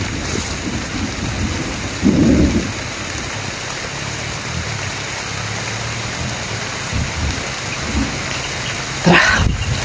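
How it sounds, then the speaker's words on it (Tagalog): Heavy rain pours down steadily with rumbling thunder, including a loud burst early on and another near the end, while a few voices and movement noises are faintly audible. "Malakas yung ulan mga tol."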